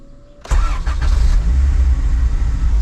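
A 1990s car engine with a check engine light on cranks briefly, catches, and settles into a steady, loud, close rumbling idle.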